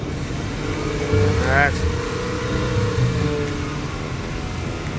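A car engine running on moonshine holds a steady drone at about 3,000 RPM, with one brief rising rev near the start, while a voice speaks briefly over it.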